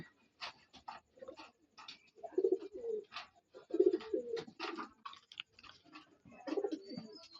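Racing pigeons and Pakistani high flying pigeons coo in soft repeated bursts at close range, interspersed with light clicks and rustles in a quiet loft.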